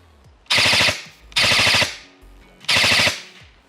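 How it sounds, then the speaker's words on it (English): ARES M45X-S airsoft gun firing full auto in three sharp bursts, each about half a second of rapid, loud rattling shots, separated by short pauses on a range. "Let's flick it to full auto and see how this feels."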